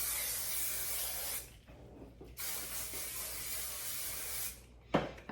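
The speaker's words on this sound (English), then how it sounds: "Shake the can, spray this all over." Long, close hissing bursts of an aerosol spray can, separated by short pauses, ending with a brief rattle and one more quick spurt.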